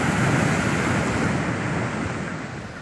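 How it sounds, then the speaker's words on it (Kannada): Heavy, rough sea waves crash and roar continuously onto Navunda beach in Udupi during monsoon rain, a dense loud surf wash with wind noise that eases slightly toward the end. "ಇಲ್ಲಿ ಕಡಲಬ್ಬರ ವೀಕ್ಷಿಸ್ತಾ ಇದ್ದ ಜನರ ಮೇಲೇನೆ ಭಾರಿ ಅಲೆಗಳು ದುಪ್ಪನೆ ಅಪ್ಪಳಿಸಿವೆ."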